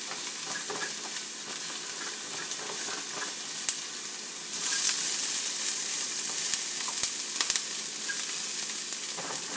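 Chopped onions sweating and browning in a hot pan for vegan butternut squash tacos, a steady dense sizzle throughout, growing louder partway through, with scattered small pops and clicks and no talking.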